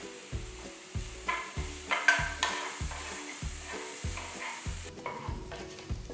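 Chopped onion, garlic, ginger and green chilies sauteing in a pan, with a steady sizzle broken by rhythmic scraping strokes of a spatula, about one every half second, close and clear with no talking.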